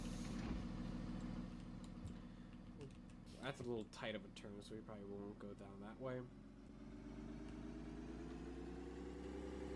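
A Thomas C2 bus engine in a Roblox game hums at a low, steady idle with a tonal drone, while someone speaks over it partway through.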